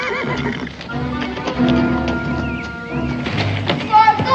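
A horse whinnies and neighs in a 1969 Western drama, with hoof clip-clops and thumps mixed in, fairly close and loud, under tense shouting voices.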